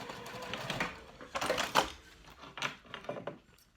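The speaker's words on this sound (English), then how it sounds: "So I'm just gonna throw a stitch in here with the 1/2 inch seam allowance because this is my lining." A sewing machine throws a short stitch along a half-inch seam in a crossbody bag lining, making a brief, irregular run of close mechanical clatters and taps rather than a smooth hum.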